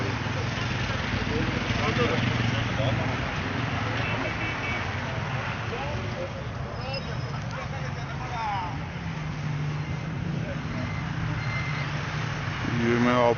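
Dense city street traffic on New Year's night, a constant loud roar of engines and road noise with faint horns and beeps, and someone talking over it throughout.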